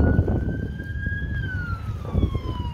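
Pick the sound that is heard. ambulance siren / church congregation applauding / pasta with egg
ambulance siren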